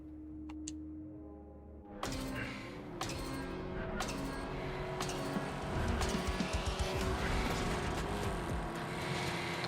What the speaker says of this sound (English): This car is nowhere near as fast, but it's got a decent weapon and it's really heavy.